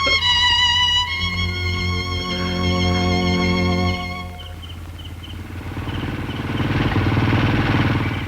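A motorcycle engine rumbles up and grows louder in the second half, a close, rough roar that builds steadily after sustained tonal sounds fade.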